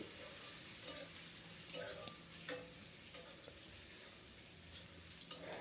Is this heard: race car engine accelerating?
no